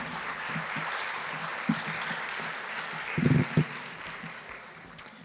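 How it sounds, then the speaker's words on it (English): Applause from an audience at a graduation ceremony, a steady wash of clapping heard from a distance, fairly soft, with a few louder bumps. "So please give a round of applause to Ms."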